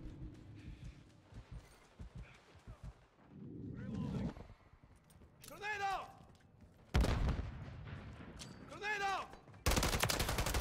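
Gunfire in the Modern Warfare 3 video game: sharp shots and rapid bursts recurring across the clip, some loud and dense near the end, mixed with other game effects.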